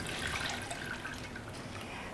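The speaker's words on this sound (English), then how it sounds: "And then pour it in to our containers." Melted homemade body butter pouring into containers, a soft continuous liquid trickle close by with no speech.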